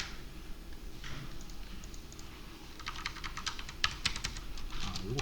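Keys tap on a computer keyboard while working in SQL, faint scattered clicks at first, then a quicker close burst of typing over a steady low room hum.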